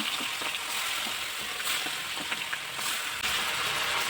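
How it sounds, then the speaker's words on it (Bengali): Prawns frying in hot oil in a kadai, a steady close sizzle with faint crackles running without a break, no voices. "এবার আমি বাকি চিংড়ি মাছগুলো ভেজে নেব।"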